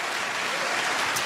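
A church congregation applauds during a Spanish-language sermon, a dense, steady wash of many hands clapping at once, filling the room without a break.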